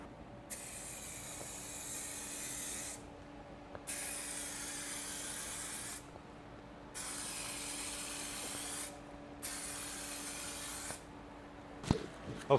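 A coat is sprayed onto a restored headlight on a salvaged BMW F30 in four close, steady bursts of hissing aerosol, each lasting a couple of seconds with short pauses between them.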